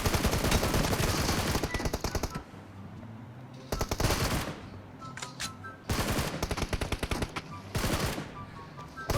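Bursts of rapid automatic gunfire from the mobile battle-royale game PUBG Mobile, loud and close, coming in three or four separate volleys with short quieter gaps between them.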